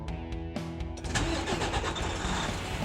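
A Western Star truck's Detroit diesel engine starting, with a starter crank that catches into a loud, steady rumble close by.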